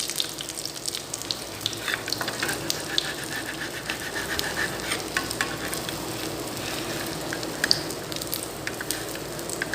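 Food frying in a pan over low to medium heat and being turned: a continuous fine crackle and spatter with sharp pops scattered throughout, close and fairly even in loudness.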